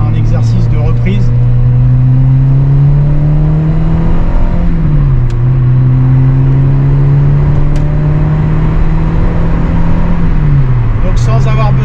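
A 1991 Peugeot 309 GTI 1.9 pulls through a steady in-gear acceleration, its engine note rising smoothly with a brief dip mid-way, loud and close from inside the car throughout.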